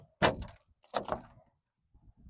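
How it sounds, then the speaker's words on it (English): The door of a 2023 Pipistrel Alpha Trainer aircraft closes and latches during a preflight check on the ramp: two close, quick thunks about a second apart, then faint handling sounds. "we're going to check the operation of the doors."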